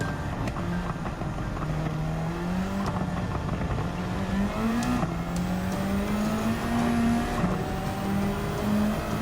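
Group 3 race car engines in the Gran Turismo 7 video game, a loud, continuous engine drone whose pitch climbs through the gears with brief drops at shifts, steady and close throughout.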